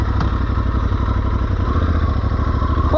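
Aprilia Tuareg 660 motorcycle engine close by, a loud, steady rhythmic thumping idle with clattery mechanical texture as the rider sets off.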